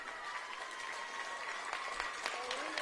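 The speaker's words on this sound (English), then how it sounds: "she's getting her seniors off of the court to a round of applause" Crowd applause fills a basketball gym during a girls' playoff game as seniors leave the court, steady and moderately distant, with a commentator's voice and arena noise mixed in.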